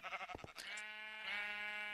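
A sheep bleats on a farm in the video game RealmForge, a short wavering cry after a few brief clicks, fairly close and clear with no talking over it.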